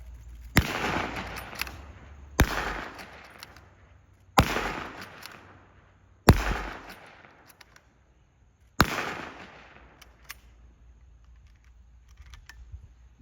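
An M1903 bolt-action rifle from the World War II era fires five loud, sharp shots spaced roughly two seconds apart. Each report booms and then decays with a lingering tail, and no voices are heard.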